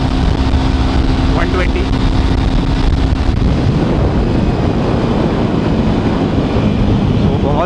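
Jawa 42 motorcycle at top speed with heavy wind blast buffeting the rider, a loud continuous roar of engine and rushing air, while someone speaks over it.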